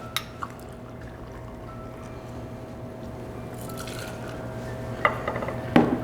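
Tequila pours into a cocktail shaker for a margarita, a quiet steady liquid trickle under a low hum, ending with a few sharp clinks of the bottle and shaker.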